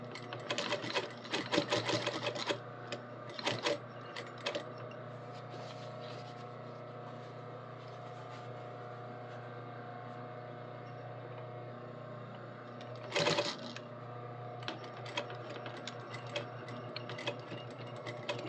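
A sewing machine stitches a curved seam in short, stop-start bursts of rapid ticking, close and fairly quiet, with a steady low hum between runs.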